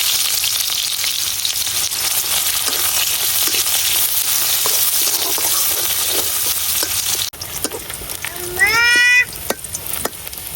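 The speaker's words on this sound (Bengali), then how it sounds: "পেঁয়াজটা ভাজা হয়ে গেছে" Onion and garlic frying in oil in a pan, a loud, steady hiss of sizzling that runs for most of the stretch before dropping off, followed by quieter clatter and a brief high squeak near the end.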